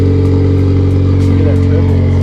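A car fitted with a catless downpipe runs loud and close, with a steady, droning engine note that holds throughout.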